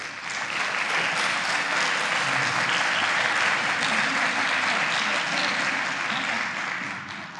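Theatre audience applauding before a show begins, a dense steady wash of clapping from many hands that holds for several seconds and fades slightly at the end, with no talk over it.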